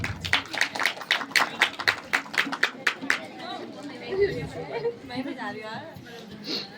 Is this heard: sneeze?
no